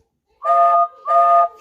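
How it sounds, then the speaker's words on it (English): Two long, loud whistle blasts with a pause between them, bright and tonal like a steam engine's whistle. "He was approaching the junction when he heard a strange whistle."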